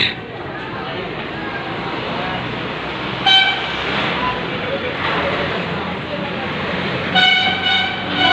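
A train pulls in at Sainthia station, rumbling throughout with two short horn blasts, under a nearby voice talking.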